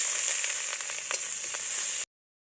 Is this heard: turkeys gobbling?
no